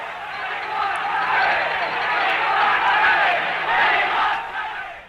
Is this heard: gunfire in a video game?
no